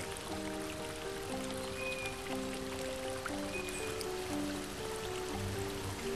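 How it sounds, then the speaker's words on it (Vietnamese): The Nà Bó waterfall in Mộc Châu, Sơn La, dropping from a height of hundreds of metres, produces a constant broad rush of falling water, steady from start to finish, with soft background music underneath. "Thác ở độ cao hàng trăm mét đổ xuống"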